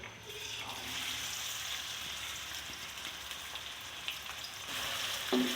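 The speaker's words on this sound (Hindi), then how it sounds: "तो चलिए प्याज डालती हूँ।" Chopped onions sizzle steadily in hot oil for a chicken qorma, a continuous close hiss and crackle that stays even throughout with no talking.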